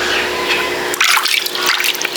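Water splashes and sloshes in a container being filled for a saltwater bath for a sick goldfish, a steady running trickle followed by louder close bursts of splashing.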